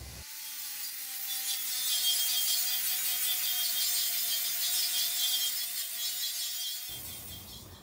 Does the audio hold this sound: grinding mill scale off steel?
yes